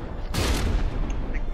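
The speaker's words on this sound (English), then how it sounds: "those shells got in there pretty deep before they detonated" Shells detonating inside a vehicle in the naval combat game From the Depths, a dense roaring burst of explosive booms that swells sharply and then sustains as a rumbling barrage.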